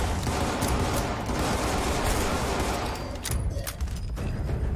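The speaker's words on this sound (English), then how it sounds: "A lot of shooting here." Dense, continuous gunfire in the post-apocalyptic shooter Fallout 76, overlapping shots and bursts rattling loudly throughout with no pauses and no talking.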